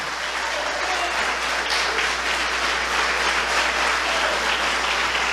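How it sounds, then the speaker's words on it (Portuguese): A church congregation applauding hard during a sermon, a thick continuous wash of clapping at constant loudness throughout, with a low steady hum beneath it. "Aplauda Jesus bem forte,"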